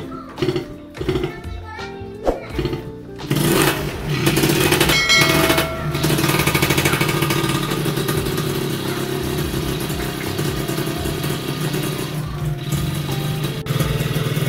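A motorcycle engine, left unstarted for a week, sputters through a few attempts, then catches and settles into a loud, steady idle close by.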